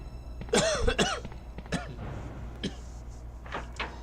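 A few sharp coughs close by, two strong bursts early, then fainter throat sounds and a couple of short coughs near the end.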